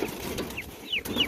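Young turkeys peep in a small coop, giving several brief rising chirps close by over low background rustle, with no talking.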